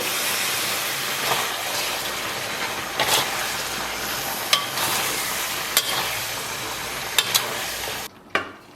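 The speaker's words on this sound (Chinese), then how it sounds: "然后开大火给它煸炒" Beef tripe stir-fried over high heat in a wok for a spicy dish gives a loud, continuous hissing sizzle punctuated by sharp metallic spatula clinks, then cuts off abruptly near the end.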